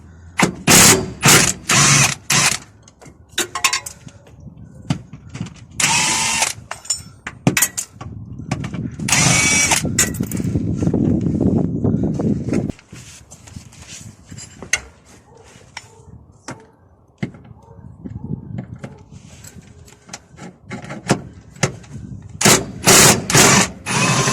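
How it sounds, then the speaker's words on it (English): Power tool loosening the upper securing bolts on a VW Touran trailing arm, repeated bursts of whirring and ratcheting between pauses, with some clanking of metal parts. "Now it's time to undo these securing bolts at the top here."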